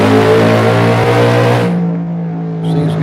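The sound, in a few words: car engine revving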